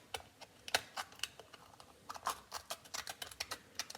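Crisp snipping and clicking of sharp scissors cutting through a lobster shell, a quick irregular series of sharp cuts close by, with no talking.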